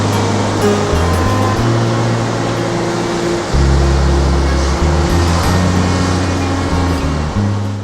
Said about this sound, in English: I really wanted to hear the sound of the waves coming in and receding, and the sound of those pebbles